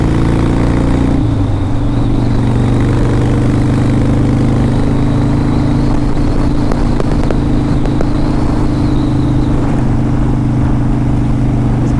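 A 2005 Harley Davidson Dyna Super Glide with 17,000 miles runs steadily nearby, its loud low engine rumble holding even throughout with a slight shift early on.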